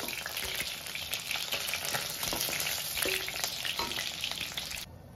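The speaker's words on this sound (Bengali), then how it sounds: "মাছগুলো ভাজা হয়ে গেছে, এর থেকে বেশি ভাজলে ভালো লাগবে না" Rohu and catla fish frying in hot oil in a pan for a Bengali curd fish curry, a steady dense sizzle with crackling pops and occasional stirring scrapes, loud and close, cutting off sharply near the end.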